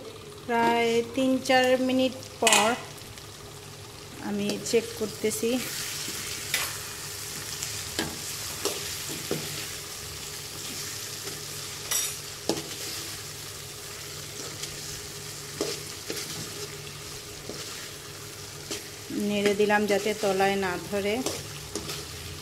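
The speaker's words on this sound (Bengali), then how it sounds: "আমরা এটা ঢেকে রেখে দেব আমাদের ঢেঁড়সটা সেদ্ধ হওয়া পর্যন্ত" Okra in mustard sauce cooking in a covered pan over medium heat, a soft steady sizzle and bubbling broken by occasional clinks, with voices talking over it at the start and end.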